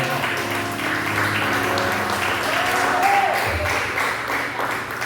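Church congregation applauding during a sermon, a sustained even wash of clapping with a held musical tone and some voices underneath.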